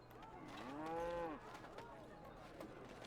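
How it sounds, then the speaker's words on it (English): A cow lows once in Dragon Age Origins, a drawn-out moo with a rising then falling pitch, fairly close and clear, fading into faint background game ambience. "Where's the cow? I heard a cow."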